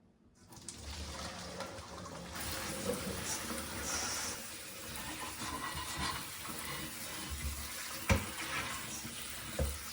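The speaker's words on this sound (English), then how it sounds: "Now it's time to drain and rinse them to make sure all that fat and blood is off." Running tap water pours steadily as cooked deer hearts are rinsed in a sink, a continuous close splashing flow with a few brief clunks near the end.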